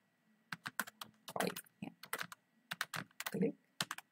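Fingers tap on a computer keyboard in quick, irregular clusters of clicks, close and clear against an otherwise quiet room.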